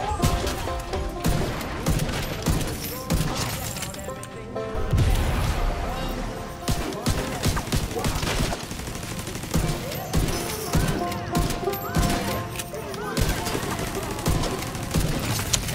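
Rifle and pistol fire from The Division 2 shooter game: dense, sustained bursts of automatic rifle shots interleaved with sharper single pistol cracks, loud and continuous with short gaps throughout.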